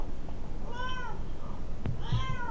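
A cat meows twice, close and clear, with a short rising call followed by a longer one, over a steady low background hum.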